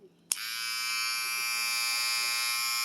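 A cheap electric hair trimmer from AliExpress switches on with a sharp click and settles into a steady, close, high-pitched buzzing hum that holds evenly to the end.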